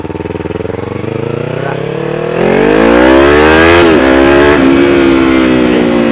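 A motorcycle fitted with a used 16-inch carbon Akrapovic exhaust revs up close and loud, idling roughly before the engine note climbs steadily, dips briefly, then holds a high, sustained drone.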